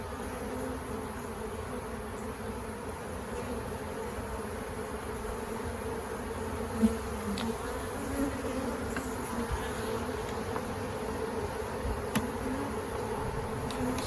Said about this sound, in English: if there's a cluster of bees, you see me running my finger through the clusters